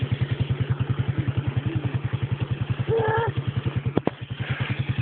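A quad ATV engine chugs in a steady, rapid pulsing rhythm while it climbs out of a hollow. A brief rise in revs comes midway, and a couple of sharp clicks follow near the end.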